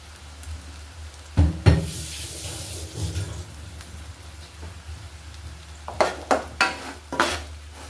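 Turmeric, chili powder, chili flakes, five-spice, mustard powder and salt stirred into hot oil for a garlic pickle, with a steady sizzle under several sharp scraping stirs, loud bursts early and again near the end.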